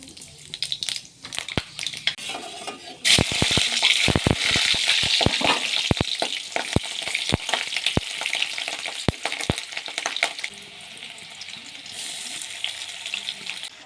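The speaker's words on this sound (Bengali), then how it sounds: "কড়াইয়ে ভালো করে পেঁয়াজ রসুন কাঁচা লঙ্কা আর কালো জিরে ফোড়ন দিয়ে নিয়েছি" Hot oil sizzles steadily in a wok with onion, garlic, green chilli and nigella seeds frying, with sharp crackles and pops scattered throughout, close and fairly loud.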